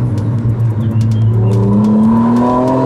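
A 2024 McLaren Artura Spider's engine revs loudly and steadily, its deep exhaust note rising in pitch as it climbs, close and continuous.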